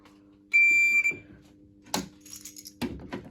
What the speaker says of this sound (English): the sound of a buzzer doesn't really bother them